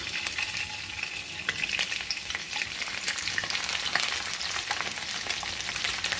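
Fish frying in a pan for adobong isda, a continuous close sizzle and crackle of hot oil with light stirring, and no one talking.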